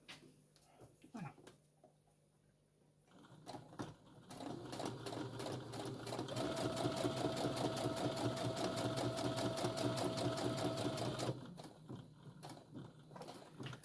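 An electric sewing machine run with a foot pedal stitches fabric for a beginner's sandwich wrap, starting after a quiet pause, then running in a fast steady mechanical whir for several seconds before stopping, close and fairly faint.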